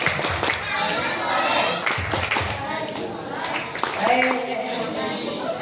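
Children at a Ramadan break-fast gathering in Aceh perform the 'tepuk anak soleh' clapping chant, with rhythmic group claps mixed with chanted voices and an adult leading, fairly close and lively throughout.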